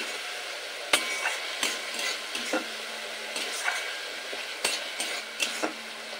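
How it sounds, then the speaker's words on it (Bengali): Ginger-chili paste masala being stirred in a pan, with steady soft sizzling and frying under repeated scraping and clinking of a spoon against the metal, close up with no voices. "মশলাটা কষিয়ে নিয়েছি, আদা লঙ্কা বাটা কষিয়ে নিয়েছি।"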